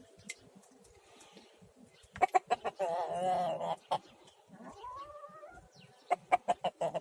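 Village roosters and chickens on a free-range farm, with short bursts of clucking and squawks, a longer harsh call in the middle and a quick run of sharp clucks at the end, fairly close amid quiet pauses.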